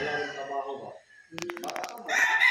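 Gamefowl roosters crow at a game farm in Dolores, Quezon, in a long, loud, close call followed by shorter clucks and another crow, while people talk nearby.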